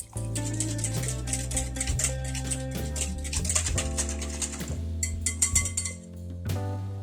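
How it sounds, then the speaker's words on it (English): A whisk stirs an egg, salt and vanilla mixture in a bowl, giving quick, bright clinks against the bowl over steady background music. "Whisk until everything is smooth."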